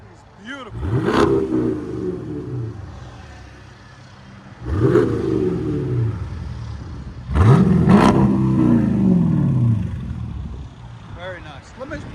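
A Dodge Durango R/T's 5.7L HEMI V8 with a loud aftermarket exhaust revs three times, each sharp rise in pitch falling back to a rumbling idle between blips.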